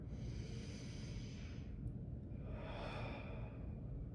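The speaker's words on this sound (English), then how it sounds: "Let me like breathe for a second." A slow, deep breath is drawn in and released near the microphone, a soft airy inhale followed by a long exhale, faint and alone against quiet background noise.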